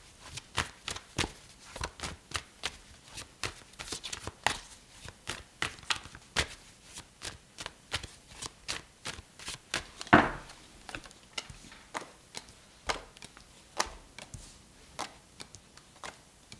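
Tarot cards are shuffled and pulled from a deck, giving close, crisp flicks and taps in an uneven run with one louder snap midway.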